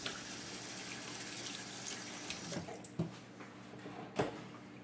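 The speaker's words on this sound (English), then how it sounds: "let me rinse my hands off." Water runs steadily from a kitchen tap while hands are rinsed, a constant soft splashing hiss with a few faint clunks near the end, no talking.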